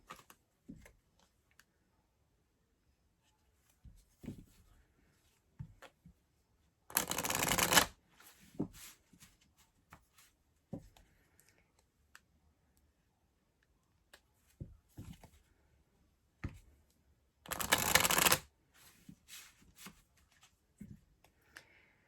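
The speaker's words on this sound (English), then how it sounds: "I have to say the deck shuffles very easily." A deck of coated playing cards is riffle-shuffled twice, each time as a sharp, loud burst of rapid flutter lasting about a second. Quieter handling clicks and taps of cards fill the gaps.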